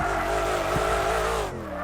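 A car engine drones steadily at high revs with a long tire-squealing skid running through it, in the drifting video game Drift Mania Championship 2, loud and close, easing slightly near the end.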